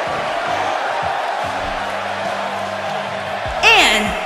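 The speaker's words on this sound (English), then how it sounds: "it sounds to me like the crowd is more than ready for this one" A crowd roars steadily through a women's celebrity battle royal in the wrestling game WWE 2K18, with a sharp whistle-like whoop swelling near the end and low voices underneath.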